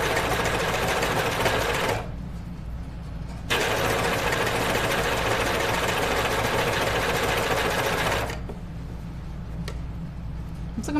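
A sewing machine stitches a seam in a heavy knit Moneta dress, running in two long, steady, close bursts separated by a brief pause, with a final shorter run.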